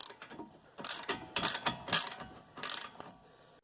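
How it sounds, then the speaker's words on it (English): Ratchet on a deep-well socket with a short extension turning a bolt on the front brake of a 2014 Chevy Cruze Diesel, several quick bursts of clicking pawl strokes, close and crisp, with no talk. "again I use the deep well and a little extension on the back here because my ratchet was actually hitting the side here of the strut"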